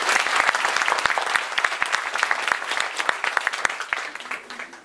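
A hall audience at a Quran graduation ceremony claps in dense, sustained applause that fades toward the end, with faint voices underneath.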